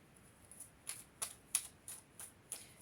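Tarot cards being shuffled, a series of about seven crisp, quiet riffling snaps at a fairly even rhythm, close up and alone against a soft hiss.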